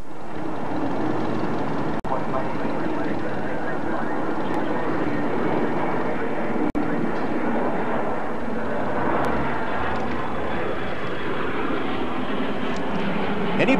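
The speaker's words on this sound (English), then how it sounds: "Anybody familiar with early jets will recognise this aircraft, the de Havilland Vampire, that served as a jet trainer with the Royal Australian Air Force." A de Havilland Vampire early jet trainer of the Royal Australian Air Force roars steadily at the 1988 Australian Bicentennial Airshow at RAAF Base Richmond, a sustained, moderately loud whine and rumble lasting throughout.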